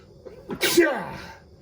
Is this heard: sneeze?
yes